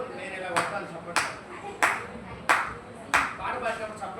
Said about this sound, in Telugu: ఇప్పుడు నేను ఇలా కొట్టాలి చప్పట్లు